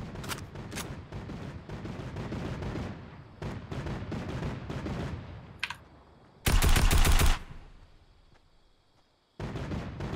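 Gunfire rattles in the game Fortnite, with bursts of rapid automatic shots and single cracks separated by gaps, one loud close burst near the middle, and brief silence before the shooting resumes, no speech.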